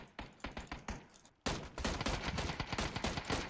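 Gunfire in PUBG on the Vikendi map: quick, fainter shots in bursts, a brief pause, then a louder, denser volley of rapid shots close by, crackling continuously to the end.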